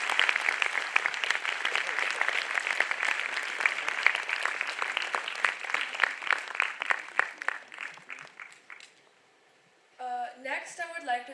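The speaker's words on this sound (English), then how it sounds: "Can everyone give them a round of applause?" A room full of people clapping, steady and fairly loud, tapering off after several seconds, followed by a voice speaking.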